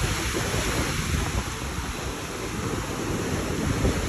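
Wind and sea waves at a beach on Zakynthos make a continuous broad roar, with gusty wind buffeting the microphone and the surf washing underneath.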